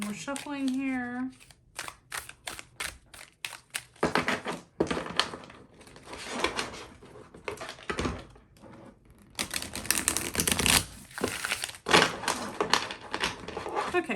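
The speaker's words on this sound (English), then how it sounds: "Do a little more shuffling here." Crisp, rapid riffling and flicking of tarot cards repeats in bursts, close by, with a brief voice at the start and soft handling noises between.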